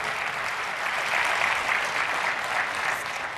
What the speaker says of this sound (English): I was hoping I would get an applause and not a laugh